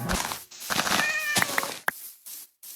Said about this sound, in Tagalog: Wait, Gian, may pusa.